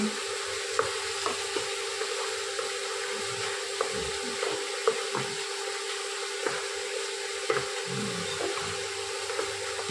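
Mushroom masala curry frying in oil while being stirred, a steady sizzle broken by repeated scraping stirs against the pan, close and continuous with no talking.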